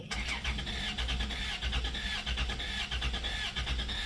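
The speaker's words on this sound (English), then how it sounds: "Try crank it again." A 1993 Plymouth Grand Voyager SE, unstarted for 18 years, cranks continuously on its starter with a rhythmic, pulsing churn that never catches, fairly close and steady throughout.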